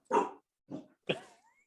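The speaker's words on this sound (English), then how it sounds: "Apologize if you hear my dog barking." Three distinct dog barks close by, the first loudest, then a softer one and a sharper final bark trailing into a brief whine, with silence between them.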